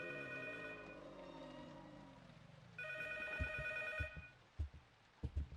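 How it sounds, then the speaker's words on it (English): An electronic telephone ring in a horror video game, with bright sustained tones heard twice in bursts, followed by a few heavy low thuds. "triggering the phone to begin ringing."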